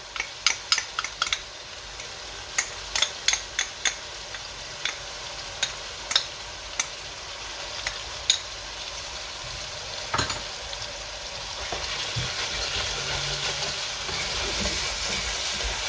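A spoon stirs goose stew with tomato puree in a pot, sharp metallic clicks and scrapes ticking irregularly at first, then giving way to a steady low sizzle and bubbling toward the end.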